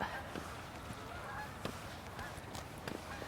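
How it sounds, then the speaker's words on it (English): Several geese honk intermittently at a moderate distance over quiet outdoor background noise. "The geese."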